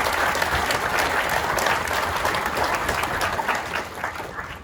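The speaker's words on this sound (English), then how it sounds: "Yes, please clap." An audience at a veterans' housing event breaks into steady, dense applause that stays loud and then begins to taper off toward the end.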